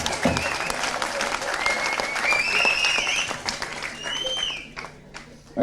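An audience at a film audio launch breaks into sustained applause, a dense wash of clapping that swells and then tapers off, with voices calling out over it.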